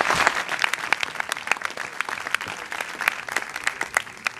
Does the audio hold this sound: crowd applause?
yes